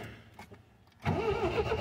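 An MGB with an SU HIF44 carburetor cranks briefly and then catches, the engine firing up into a steady, loud running rumble close by.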